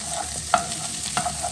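Carrots sweat in coconut oil with star anise, turmeric and garlic, giving a steady low sizzle close by, broken by two sharp clacks of a utensil against the pan.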